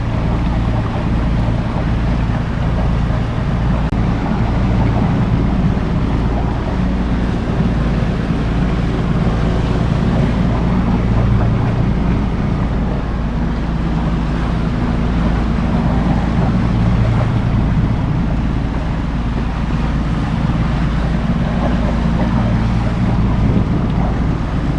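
A towboat's engine drones steadily while towing a Navy or Coast Guard military target boat on open water, a continuous loud low rumble mixed with heavy wind buffeting and water wash for the whole stretch.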